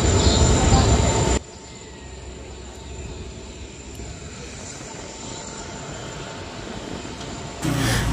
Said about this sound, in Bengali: পঞ্চরত্ন স্টেশন থেকে ছেড়ে যাচ্ছে ট্রেন